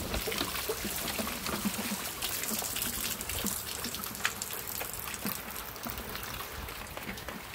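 Water gushing strongly from the end of a long pipe, a steady broadband rush and splash that continues evenly throughout at a moderate level, with no voices.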